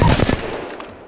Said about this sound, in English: We'll do that same thing here with the flatline.